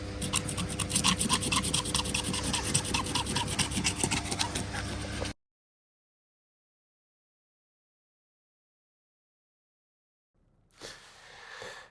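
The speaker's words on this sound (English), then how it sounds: "Now let's try and scrape this off." Something is scraped off the body of a newly delivered Hyundai Tucson, giving a loud, close, rapid rasping rub for about five seconds, then silence, then a brief faint rustle.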